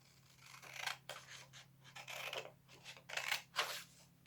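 Scissors snip through a paper circle in a series of short, crisp cuts with brief pauses between strokes, close and fairly quiet.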